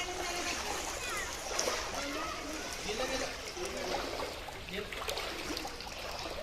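Rainy-season water flowing and splashing in a steady, fairly faint rush with bursts of splatter, while people talk over it.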